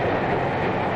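A New York Central Railroad diesel freight train rolling past, a loud, dense rumble and rattle of freight cars, continuous and close.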